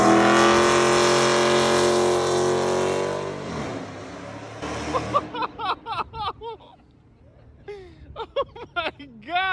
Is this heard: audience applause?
no